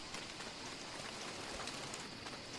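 Rain falls steadily in Don't Starve, a soft, even patter of drops on surfaces, faint and continuous with no voices.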